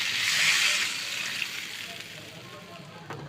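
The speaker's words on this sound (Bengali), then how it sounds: "এখন আমি পরিমাণ মতো একটু পানি দিয়ে দেবো।" Water poured into a potato and eggplant curry cooking in oil, a steady splashing rush loudest at the start, then easing into a softer simmer-like hiss.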